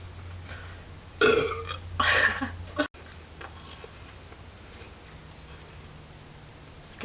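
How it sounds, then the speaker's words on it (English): Two loud, close burps follow one another, separated by a short gap, then the room falls quiet with only faint background hum. "And let the burping begin."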